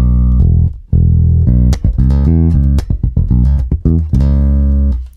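A Spector NS Pulse II electric bass on its neck pickup plays a brisk, busy line of plucked and slapped-sounding notes with sharp percussive attacks over deep sustained lows; loud, close and unaccompanied.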